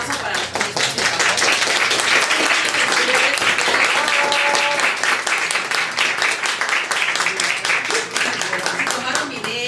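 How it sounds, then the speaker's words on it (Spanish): Loud, sustained applause from an audience at a live music night honoring the backing singers, dense clapping throughout with a few voices and cheers mixed in. "Un fuerte aplauso para los coristas, por favor."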